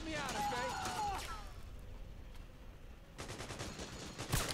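A sniper rifle shot in Metal Gear Solid 4 cracks out as a sharp burst near the start, with a fainter sharp report near the end, under ongoing game sounds and people talking.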